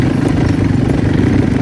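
A new Hunter motorcycle engine runs with a loud, close, steady rumble, its rapid firing pulses throbbing evenly with no voices over it.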